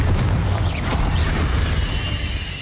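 A Confringo spell blast in Hogwarts Legacy bursts into a loud, booming explosion that rumbles on and slowly fades over a few seconds, with no talk.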